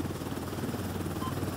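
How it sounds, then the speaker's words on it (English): Helicopter rotor noise in a video game extraction shooter, a steady, loud chopping drone that holds without a break and fills the whole moment with no voices over it. "So the only thing about this chopper is we probably won't be able to hear each other past this point because it's really loud."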